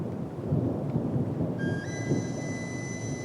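A distant thunderstorm rolls over a mountain ridge with a deep cliff at dusk. Low thunder rumbles under a wash of rain-like noise, and sustained high reedy tones join about halfway through.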